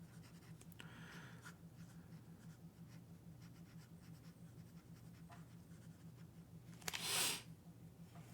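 Soft scratching of a fine steel nib fountain pen on paper, faint continuous strokes under a low background hum, ending with a brief louder rustle.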